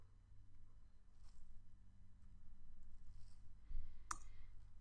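Commands typed on a computer keyboard make faint, sparse key clicks over a low, quiet background hum.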